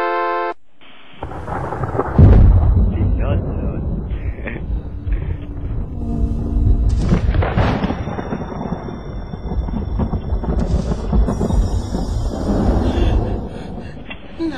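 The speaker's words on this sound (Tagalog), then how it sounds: "Huwag kang matakot, anak. Kulog lang yan." Thunder sound effect rolling loudly through a long rumbling crash with rain-like hiss, preceded by a brief musical tone and followed by repeated cracks and low rumbles throughout.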